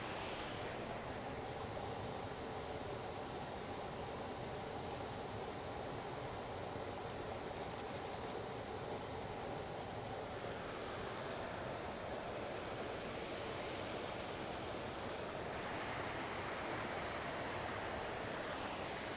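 West Burton waterfall pouring over rocks, a steady full roar of rushing water that stays constant and close throughout, with no voices.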